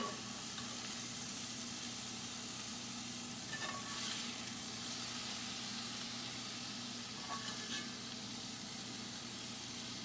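Bok choy caramelizing in a hot pan, a steady close sizzle and frying hiss with occasional stirring scrapes, no talking.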